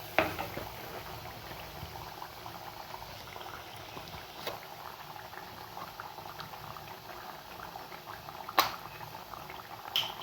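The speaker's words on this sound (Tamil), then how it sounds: "இந்த அளவுக்கு நல்லா பாருங்க கொதிச்சு வந்துட்டு பாருங்க" Rasam, a South Indian soup, boils in a pot with a constant bubbling patter and a few sharper pops and clicks, close and moderately quiet, with no talking.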